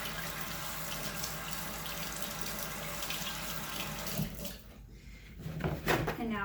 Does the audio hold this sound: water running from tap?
yes